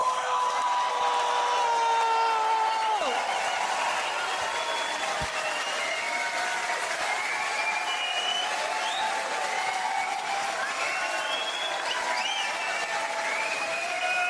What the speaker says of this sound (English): let's make even more noise than that and welcome out the one, the only, your own Glasgow, Frankie Boyle!